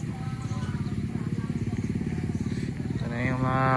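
Kawasaki Versys 650 motorcycles idle nearby in a steady, rapid low engine putter that rises slightly toward the end, with people talking over it.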